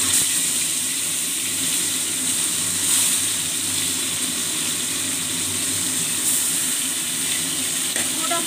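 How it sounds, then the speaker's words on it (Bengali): Parshe fish frying in hot oil, a steady, continuous sizzle that stays close and fairly loud, with no pauses and no voices. "এইভাবে আমি পুরোটা মাছ ভেজে নেব।"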